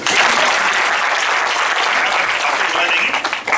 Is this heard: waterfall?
no